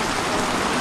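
Steady heavy rain pours down in an outdoor street scene, a dense, even hiss of drops on surfaces, loud and unbroken throughout.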